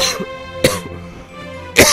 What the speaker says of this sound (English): Bad cough there.